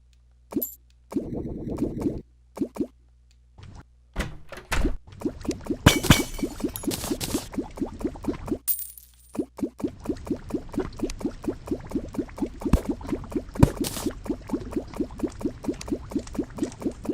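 Repeated plopping and bubbling as a chicken falls into lava in the video game Terraria, a rapid series of short, close game sound effects with a boiling, liquid character and no talk.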